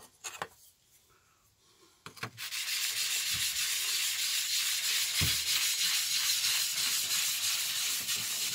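A wooden Goldenberg 42 plane is sanded on 180 grit abrasive: after a few quiet taps and scrapes, steady rhythmic rasping strokes start and keep going loud and close, with no talk.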